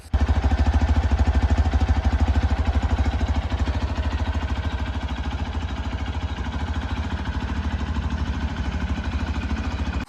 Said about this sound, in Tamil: ஸோ இதோட எக்ஸாஸ்ட் நோட்டை வந்து நீங்கள் கண்டிப்பாக கேட்கணும், எப்படி இருக்குன்னு சொல்லிட்டு பாருங்களேன் எக்ஸாஸ்ட் நோட்டு.